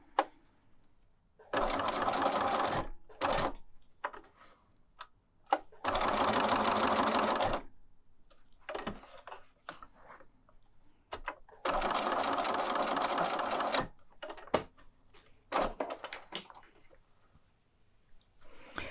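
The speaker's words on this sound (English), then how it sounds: "To sew on the handle, I'm just going to sew around the end of the handle where it overlaps the banner." A sewing machine stitches around the end of a fabric handle on a travel menorah project, running in three loud sustained bursts separated by quiet pauses with small clicks and handling noises.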